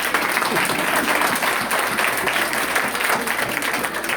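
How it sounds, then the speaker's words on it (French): A dense, continuous wash of many hands clapping from a crowd at a church anniversary celebration for the ladies of the congregation. Loud and sustained throughout, with no speech over it. "on va applaudir pour nous s'il vous plaît"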